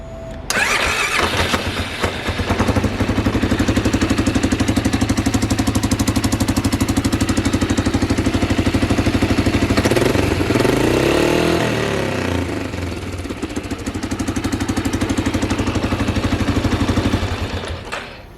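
A rebuilt Polaris Sportsman 550 ATV engine runs steadily up close, a loud continuous mid-pitched drone with a rough, rapid firing pulse that dips briefly and surges again before cutting off near the end.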